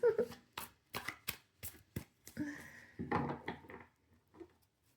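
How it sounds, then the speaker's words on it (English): Tarot cards are shuffled by hand up close, a string of crisp slaps and riffles in an uneven rhythm, with a soft rustle near the end. "I was going to shuffle on camera then"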